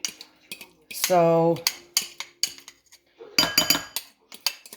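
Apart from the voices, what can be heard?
stirring turkey mixture with cutlery in a pot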